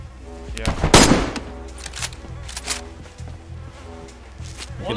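Gunfire in the DayZ video game, a sharp loud shot near the start followed by several quieter bursts over a steady background drone.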